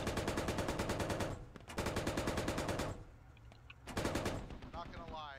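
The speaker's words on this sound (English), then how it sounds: "MTLB firing in on the US position here." In the video game Squad, an MT-LB armored vehicle fires long, loud bursts of rapid automatic gunfire, pausing briefly between bursts, with distant battlefield noise filling the gaps.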